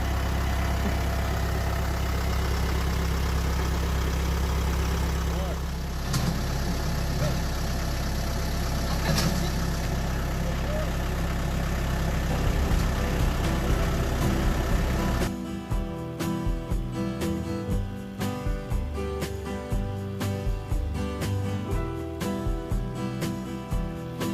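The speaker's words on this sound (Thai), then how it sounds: "ก็เลยจะใช้รถยกยกขึ้นนะคะ" A forklift engine idles and runs at a steady low rumble while lifting up to pick apples in an orchard; the tone shifts partway as the load changes, continuous and fairly close.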